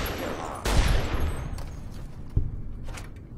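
Gunfire in the video game Fallout New Vegas: one loud, sharp shot with a decaying tail, then a fainter shot about two seconds later.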